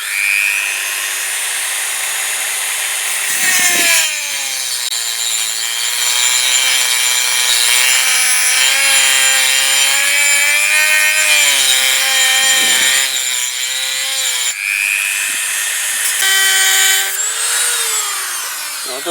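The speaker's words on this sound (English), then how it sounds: "I don't intend cutting it right the way through because I'm hoping to shock it off with a chisel." A power tool grinds steadily through a wheel part from a Kawasaki BN125 Eliminator motorcycle, a loud close whining cut with brief dips where the blade eases off and bites again.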